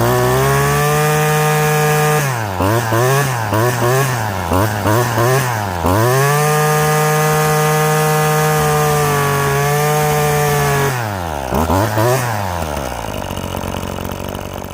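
A two-stroke string trimmer engine running after a carburetor adjustment, loud and close, its buzzing drone revving up and down in repeated short bursts between steadier high-speed stretches.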